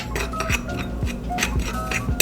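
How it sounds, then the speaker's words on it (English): Seasoned flour for coating flounder fillets is given a quick mix in a bowl, with a fast run of light clinks and ticks from a utensil against the dish, close and brisk, no voices. "Now we gotta give our seasoned flour a quick mix"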